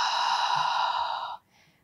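A single long, breathy exhale during a Pilates workout, close and soft, lasting over a second before trailing off into near silence.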